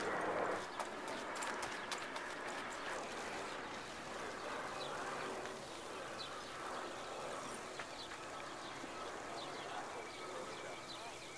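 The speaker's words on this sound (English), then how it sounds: "He's going to be heading out to the training track for an easy jog this morning." A racehorse colt jogs on a training track at Hollywood Park, its hoofbeats a steady, soft clip-clop set in an outdoor bed of wind and ambient noise, with faint talk present throughout.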